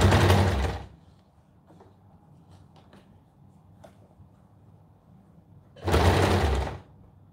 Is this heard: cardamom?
no